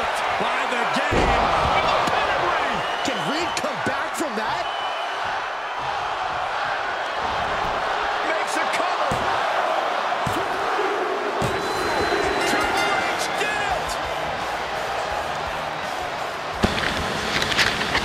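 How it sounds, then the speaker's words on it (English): A loud, roaring arena crowd from the WWE 2K24 wrestling video game fills the scene continuously, with cheering swelling under commentary and sharp impact thuds scattered throughout, building toward a bigger burst near the end. "Listen to this crowd."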